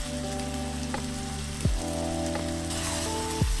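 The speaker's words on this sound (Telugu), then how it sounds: "ముందుగా ఉల్లిపాయలు వేద్దాం. బాగా ఎర్రగా కావాలి ఉల్లిపాయలు." Onions sizzling steadily in plenty of hot oil in a pan for a spicy liver curry, a constant close crackle with a few soft knocks from stirring and no talk.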